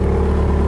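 A 2012 Bobcat S185 skid steer loader with rubber tracks and cab idles steadily, a loud continuous low engine drone with a regular harmonic hum and no pauses, close by.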